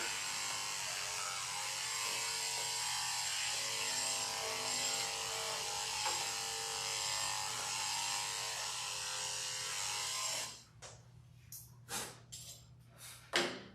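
An electric clipper buzzes steadily and loudly while trimming a dog's hair for about ten seconds, then cuts out, leaving a few short clicks and rustles.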